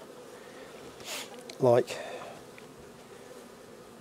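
Honey bees buzz at a hive on a farm, a faint hum with one brief nearer, louder burst, while someone speaks briefly.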